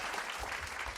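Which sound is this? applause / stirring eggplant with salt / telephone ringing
applause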